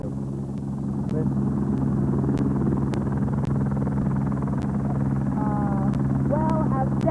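A helicopter's steady engine and rotor drone, loud and continuous, as departing castaways head to it at the end of a year on a remote island, with voices talking over the rumble.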